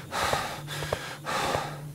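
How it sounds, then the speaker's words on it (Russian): Heavy, rhythmic breathing with loud gasping inhales and snorting exhales, repeating roughly every half second, close to the microphone during a night-time horror game session. "Чувак, не дыши так."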